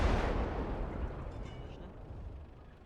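An infantry gun fires in the WWII game Gates of Hell: Ostfront: one heavy blast at the very start, then a long rumbling decay that stays loud across the whole stretch.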